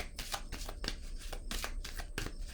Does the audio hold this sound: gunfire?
no